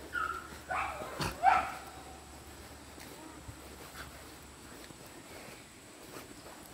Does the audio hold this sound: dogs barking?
yes